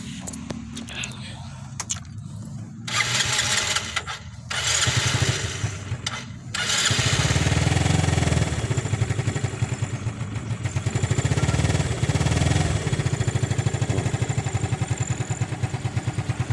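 A Yamaha Mio Soulty scooter with a stalling-at-stop fault revs up in short bursts and then settles into a steady, close, rhythmic idle thrum. Engine noise stays loud, with brief gaps between the early revs.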